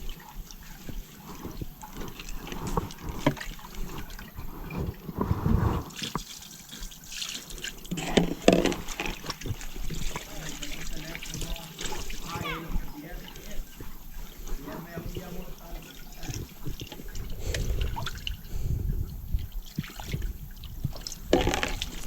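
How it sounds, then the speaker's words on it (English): Water running and splashing from a sink while laundry is hand-washed, continuous trickling and sloshing close by with brief louder swishes and occasional clatter. "then grab some water from my sink"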